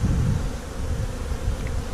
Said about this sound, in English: Okay, the bees are most of the way down on the frame here.